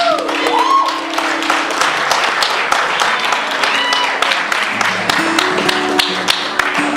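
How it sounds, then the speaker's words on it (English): Audience applause for a hula dancer at a Hawaiian music performance, a steady dense wash of many hands clapping throughout, loud and close, with a few faint voices and whoops mixed in. "How about a big round of applause for Miss Nicole Fox?"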